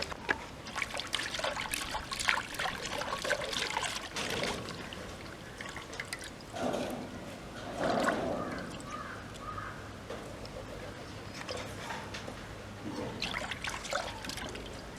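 Water trickles and splashes in uneven bursts, as if poured over something being rinsed, with faint background noise and no clear speech.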